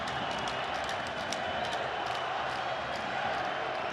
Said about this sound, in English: Well, the crowd has come to life now.